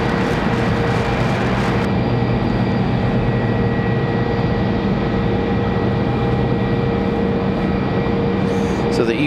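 Embraer E175 airliner powering up for takeoff at Raleigh-Durham airport, a dense continuous engine roar with steady whining tones, loud and unbroken throughout.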